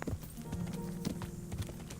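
Horse hooves in the medieval video game Kingdom Come Deliverance clip-clop in a quick, even rhythm, close and clear over a low sustained tone.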